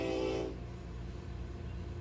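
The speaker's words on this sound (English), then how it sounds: "That is the train." A loud horn-like tone blares for the first half second, then a low rumbling rolls on steadily, like a train going by close at hand.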